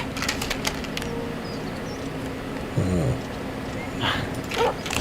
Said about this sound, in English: Hey! Invisible dog!